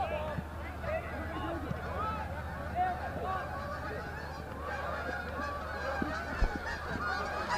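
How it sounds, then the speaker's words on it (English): A gaggle of geese honking as they fly over a high school boys' varsity soccer match, a continuous chorus of overlapping honks at moderate distance under commentators' voices. "got a gaggle of geese flying over us right now"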